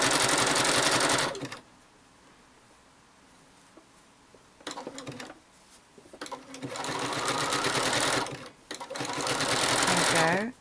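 A sewing machine stitching free machine embroidery zigzag on a postcard project runs in fast, loud mechanical bursts, stopping and restarting several times, with quiet pauses between runs.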